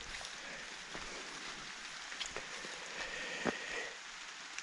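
Steady rain hisses across the whole stretch during a mushroom hunt in the woods, with scattered drop impacts and one sharper knock near the end, no voices.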